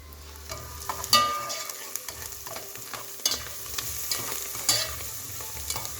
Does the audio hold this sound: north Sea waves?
no